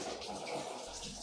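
Water runs steadily from an opened tap, a continuous close rushing hiss that fills the short moment without pause.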